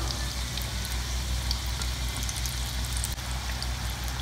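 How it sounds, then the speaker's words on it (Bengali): Mini samosas frying in oil over medium-low heat, a steady close crackle and bubbling hiss that holds level throughout with no voices. "মিডিয়াম টু লো হিটে সিঙ্গারাগুলোকে ফ্রাই করে নিতে হবে।"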